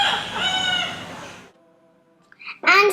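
A parrot imitates a rooster's cock-a-doodle-doo, giving one loud, close crow that fades into a short pause before a second, squawkier call starts at the end.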